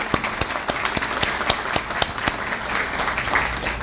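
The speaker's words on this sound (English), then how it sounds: "give them a round of applause right quick" Applause breaks out at a chamber of commerce lunch, a room full of hands clapping steadily in a dense, continuous patter, fairly close and sustained throughout with no voices over it.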